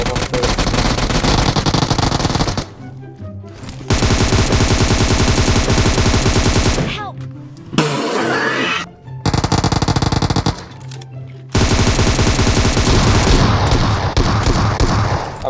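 Loud, sustained automatic gunfire in a shooting video game, with dense rapid bursts broken by short pauses and a brief explosive crackle partway through.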